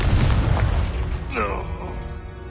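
A Confringo fire-blast spell from the Hogwarts Legacy video game lands as a loud, booming burst over continuous battle noise, followed by a brief rising whoosh and crackle about midway through.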